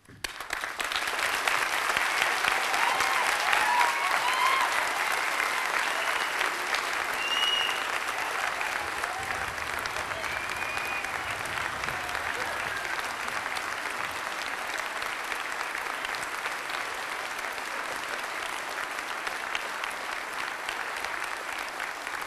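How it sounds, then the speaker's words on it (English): A large audience claps steadily at a university graduation ceremony after the Faculty of Health and Social Care students are presented, the dense applause rising quickly and holding loud throughout. "I don't know why you're clapping"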